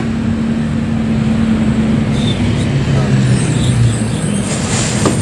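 A bus rolls along a smooth road between Sidempuan and Sipirok, giving a steady loud engine rumble and road noise with a faint hiss near the end.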